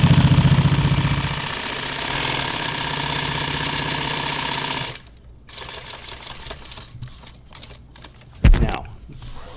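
An industrial sewing machine runs steadily, stitching layers of nylon webbing for a tactical EDC belt, then drops away to quieter handling noises with stop-start pauses and one sharp knock near the end.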